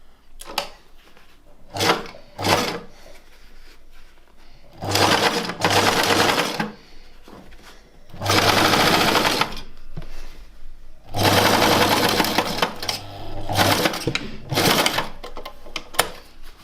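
A sewing machine stitching a custom gear stick cover, running in several loud rapid bursts of stitching separated by pauses, close up, with small clicks and handling noises between runs.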